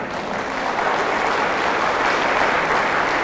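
An audience at an Islamic religious lecture breaks into dense, continuous applause. The clapping is loud and steady throughout, with no speech over it.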